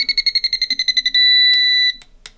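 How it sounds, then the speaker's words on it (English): A rapid series of short electronic chirps from a model aircraft radio transmitter setup gives way to one sustained high beep lasting under a second, marking one end of travel, then a few brief clicks and blips. "We're gonna listen for one long beep."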